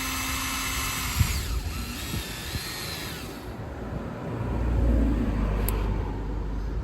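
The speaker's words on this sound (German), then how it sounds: "hier oben irgendwo bohren wir dann durch" A power drill bores through the hull of an old sailboat, a Windy 23 FC, whining and grinding in uneven bursts before a lower rumble takes over.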